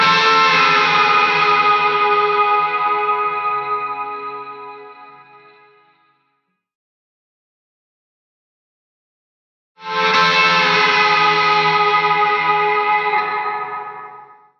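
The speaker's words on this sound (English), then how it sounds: "a little bit of overdrive, and then the plate reverb and the Tre-Verb by Fender again to get that big washy ambient-y reverb sound" An overdriven electric guitar lead line drenched in washy plate reverb and a Fender Tre-Verb, two long ringing phrases that decay slowly into silence with a gap between them, played alone and fairly loud.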